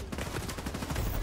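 Rapid gunfire from a weapon in The Division 2 video game, a dense burst of repeated shots packed together across the whole moment at steady loudness with no talking.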